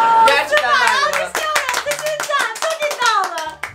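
Hand claps ring out in quick bursts during a children's slime-making contest, mixed with excited kids' voices talking over them at close range.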